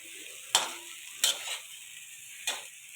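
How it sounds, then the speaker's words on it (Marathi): White okra (bhendi) sautés in a pan, a quiet continuous sizzle punctuated by three distinct scraping stirs of the spatula, with no speech. "छान परतून घ्यायचं"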